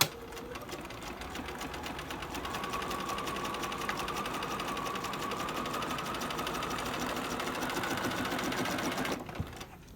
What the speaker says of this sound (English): with our thread tension and the stitch length adjusted, I'm going to start sewing